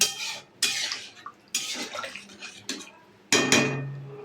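Water is poured into a pot of potatoes set for boiling, giving several separate splashing, clattering bursts with pauses between them, close by and with no talk.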